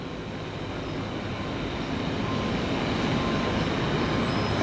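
A heavy UPS jet roars on the runway at Tampa International Airport during its takeoff roll, a broad continuous rumble that swells gradually louder and stays unbroken.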